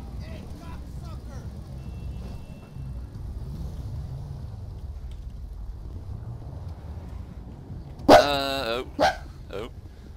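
Police dog barking in GTA5 FiveM, a short burst of loud, sharp barks near the end over a long stretch of low rumbling background noise.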